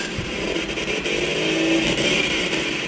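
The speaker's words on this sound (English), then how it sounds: "That's the car sound." A steady, continuous car engine drone from a racing game built in MIT App Inventor, with an even hum that holds without change throughout and no talking.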